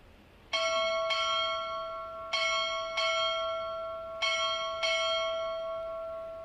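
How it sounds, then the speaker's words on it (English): Six strokes of a ship's bell at a Navy Recruit Training Command graduation, rung in three pairs of double strikes with sustained metallic ring between them, loud and clear with no talking. "Time order, strike 6 bells."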